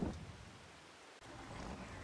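Rain falls in the video game Farming Simulator 22, a steady soft hiss at low volume with a brief dip partway through.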